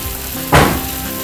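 Octopus hits a hot frying pan to sear, setting off a sudden loud sizzle that bursts out after half a second and then fades to a softer crackle.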